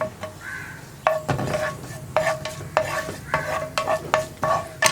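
Cumin and fennel seeds sizzle in a hot pan for tomato theeyal, a steady frying hiss broken by repeated close scraping strokes as they are stirred.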